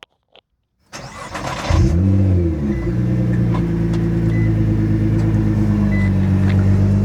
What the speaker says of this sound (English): That is warm start and idle on an R35 GTR.